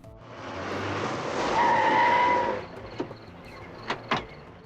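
Car tires screeching on grass in a werewolf horror film, a loud sustained squeal that swells and fades over a couple of seconds, followed by a few sharp impact clicks.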